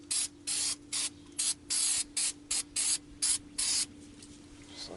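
Short hissing bursts of aerosol spray dusting the back of a new brake rotor, about a dozen quick puffs in an uneven rhythm, close and clear against a faint steady hum.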